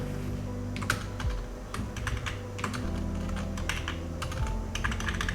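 Computer keyboard typing while an SQL query is written, a steady stream of quick close keystrokes in irregular bursts with a low background hum underneath, no talking.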